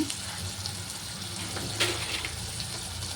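Tomato and turmeric fry in a pan with a steady watery hiss and sizzle, quiet and close, with one brief louder splutter partway through.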